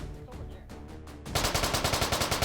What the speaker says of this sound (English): It feels like it's shooting high.